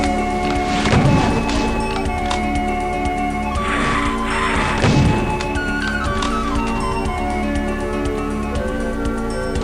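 Stone pillars collapsing in the Sunlust Doom map Sol: heavy crashing thuds around the first, fourth and fifth seconds over constant game music and tones.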